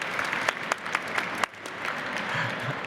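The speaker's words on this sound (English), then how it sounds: "So let's get a round of applause." Audience applause at a panel event honouring volunteers, a moderate burst of clapping with a few sharper claps standing out, fading slightly toward the end with faint voices beneath.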